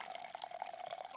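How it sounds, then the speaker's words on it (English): Coffee poured into a cup: a faint, steady trickle with a light gurgling texture throughout, quiet and without voices. "I gotta pour some coffee"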